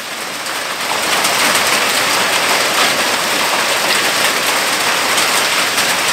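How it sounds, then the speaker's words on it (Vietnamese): Hail pours down steadily outdoors in a Vietnamese mountain village, a dense, continuous hiss of pellets striking surfaces that swells in the first second and then holds loud and even. "Mưa đá."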